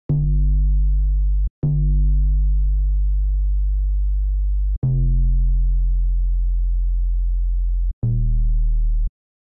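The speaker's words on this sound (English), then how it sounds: "we've got a really, really great sounding rich bass right there" A rich synth sub bass from the Equator2 instrument, layered with transients, plays four long sustained notes, each opening with a sharp attack and ringing steadily and loudly, with no other sounds between the notes.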